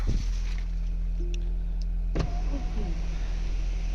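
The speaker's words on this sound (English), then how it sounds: "Alexa just opened the sunroof on its own by the voice control methods" Electric sunroof motor of a Mahindra Scorpio N whirring steadily inside the cabin, a continuous close hum with a couple of mechanical clicks, including one sharp clunk midway, and no talking.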